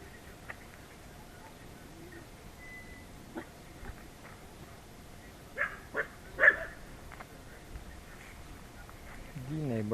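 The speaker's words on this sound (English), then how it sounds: "The neighborhood dogs." Neighborhood dogs bark faintly in a few scattered bursts over a quiet, hissy background, heard from a distance.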